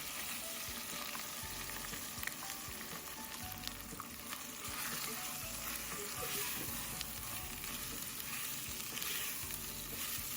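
Two large chopped onions frying in a pan for an egg masala, a continuous dense sizzle with faint stirring scrapes, steady and fairly quiet, with no one speaking.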